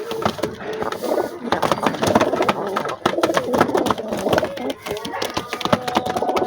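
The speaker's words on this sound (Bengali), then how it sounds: "এইটা হচ্ছে হলো আমার নীলা কবুতর" A blue cock pigeon of a high-flying breed coos up close amid wing flutters and wooden cage knocks, with a voice speaking over it.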